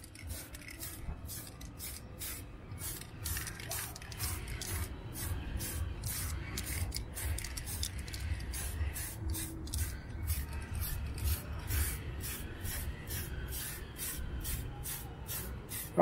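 Aerosol spray paint hissing in repeated short bursts as even coats go onto a HoBao Hyper VT RC car body, with a steady rhythmic pattern and no talking.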